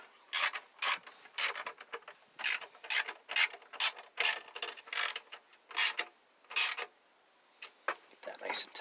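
A ratchet wrench tightens bolts on a 1960s MTD LawnFlite mower, giving close, rhythmic bursts of rapid clicking separated by short pauses, with one longer gap.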